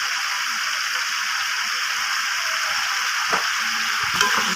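Masala sizzling and frying in a pan with tomato sauce added while being stirred for chilli fish, a steady hiss throughout with a couple of faint scraping knocks near the end.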